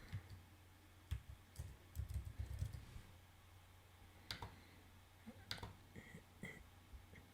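Keys clack on a computer keyboard as text is typed, a quiet close cluster of taps early on followed by sparser single clicks, faint and without speech.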